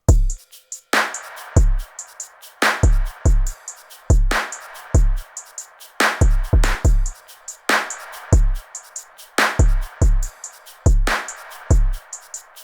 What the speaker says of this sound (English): And all together, the drums sound like this.